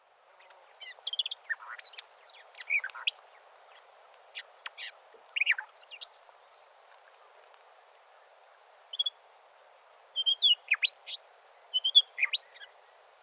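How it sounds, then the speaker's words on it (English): An inland thornbill of the nominate race gives a recorded series of high, thin chirps and warbling twitters in irregular clusters, faint and clear over a quiet background with short silent gaps between phrases. "Inland thornbill, nominate race."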